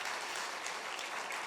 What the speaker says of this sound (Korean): 우리 수고하시는 박수로 한번 우리 목사 환영하겠습니다